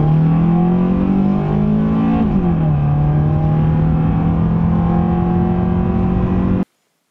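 A drift car accelerates steadily, its engine tone rising, shifting once and then climbing again as a loud, close continuous engine drone that cuts off abruptly at the end, with no talking.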